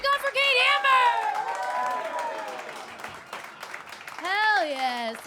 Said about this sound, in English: please start clapping, start cheering, give up for the wonderful Kate Hammer